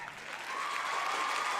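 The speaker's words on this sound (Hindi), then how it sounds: "तालियां।" Applause from an audience, dense clapping that swells and holds steady for a short burst, fairly loud and without talk.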